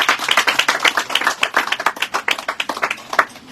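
Mourners at a Yoruba burial clap their hands in praise of Jesus: steady, fairly loud clapping from a group, with many overlapping sharp claps in a brisk, slightly uneven rhythm.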